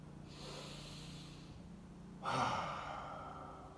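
Slow, deliberate breaths during a guided breathing exercise: a long, soft exhale, a pause, then a sharper, louder inhale or sigh, close and clear with no talking.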